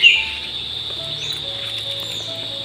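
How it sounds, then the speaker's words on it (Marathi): Birds chirping in a quiet eco village, a few faint scattered tweets and thin calls over a calm, still background with a soft knock at the start. "ना कुठल्या गाडीचा आवाज ना कसला, फक्त आपलाच आवाज आणि पक्ष्यांचा."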